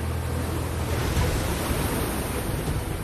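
Heavy rain and rushing floodwater in Rajkot after many hours of continuous downpour, a dense, steady roar of water and wind filling the scene with no voices.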